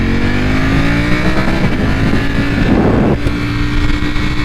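A 2020 Ducati Panigale V4 R motorcycle runs on a short ride, its loud engine droning close and steady with rising and falling revs and a brief shift dip partway through.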